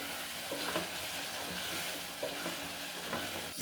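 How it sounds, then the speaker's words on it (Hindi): Tomatoes sauté in a pan for a capsicum and potato sabzi, giving a steady close sizzle with a few soft stirring scrapes and a louder clatter right at the end, with no voices. "टमाटर सॉफ्ट होने तक हम भून लेंगे, तकरीबन 3 से 4 मिनट।"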